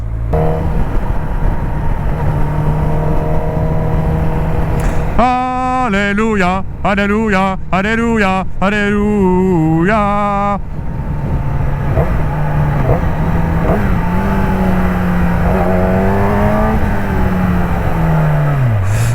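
A hypersport motorcycle engine idles and revs repeatedly in short bursts, rising and falling in pitch, loud and close throughout.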